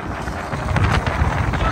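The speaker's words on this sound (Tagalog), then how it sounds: "Lakas ng hangin guys" Strong wind buffeting the microphone, a continuous low rumbling roar with gusty swells throughout.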